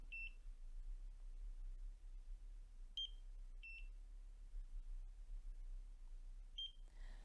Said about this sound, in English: it takes a little longer for it to beep.